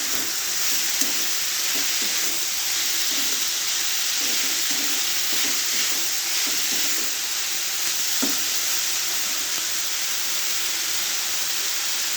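Sprouted moong beans sizzle in a hot pan for a Marathi-style moong dish, a steady frying hiss running throughout with faint scraping stir sounds and a couple of brief clinks, no speech.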